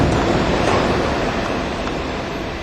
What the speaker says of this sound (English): Yep, I got a train in this one.